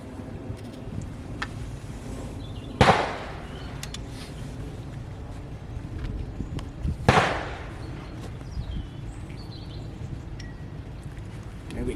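Two loud gunshots ring out at an outdoor shooting range, fired from a safety cage several seconds apart, each a sharp crack above a steady background murmur.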